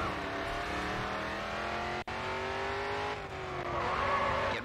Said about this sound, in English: Okay, let's move on to some drifting.